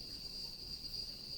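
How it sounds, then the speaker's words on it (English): Cicadas in Costa Rica on a sunny dry-season morning give a steady, continuous high-pitched buzzing drone that is unbroken and even throughout, with a faint rumble underneath and no voices. "we have a great deal of noise, unfortunately, but from the cicadas who have hatched and are busily looking for girlfriends"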